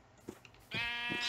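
Blocky Minecraft-style sheep in a video game bleat three times in quick succession, short nasal cries, the last two longer and louder, with no talking.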